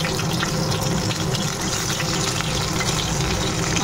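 Fish fries in a pan with a dense, loud, continuous crackling sizzle that stays steady and close throughout, with no voices over it.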